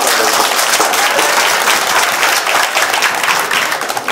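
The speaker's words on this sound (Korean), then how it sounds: "우리 한번 하나님께 영광 돌리는 박수 한번 주겠습니다." A church congregation gives a dense, loud round of applause during a year-end service, sustained and even throughout with no talk over it.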